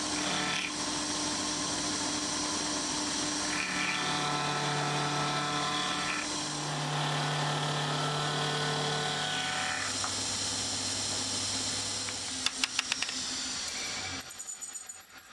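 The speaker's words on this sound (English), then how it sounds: "I've got a nice big chunky end mill in the milling machine. So we'll drop this down and we'll just turn that radius." A large end mill in a milling machine cuts a radius on a rotary table, giving a continuous loud whining and grinding drone with shifting pitch, ending in a few sharp clicks before the cut stops.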